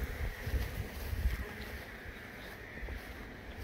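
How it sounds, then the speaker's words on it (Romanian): Honeybees around hives in an apiary make a steady, dense, moderately loud buzz with no voices, low rumble underneath. "albinele sunt un pic în alertă"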